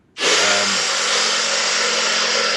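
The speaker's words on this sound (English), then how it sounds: "I assume it's a power drill" A handheld power drill whirs up suddenly and runs steadily at a loud, even pitch, heard in the background of a conversation with no speech during the burst.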